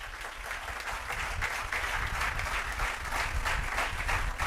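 Audience at a religious lecture clapping, a sustained, fairly faint round of applause that continues without break.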